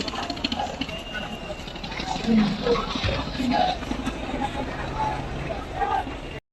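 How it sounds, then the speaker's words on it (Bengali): A passenger river launch pulls away from the crowded Barisal launch ghat, its low engine rumble steady beneath constant crowd babble and someone talking nearby. "এই লঞ্চটি ছেড়ে দিচ্ছে ঘাট থেকে দেখতে পাচ্ছেন"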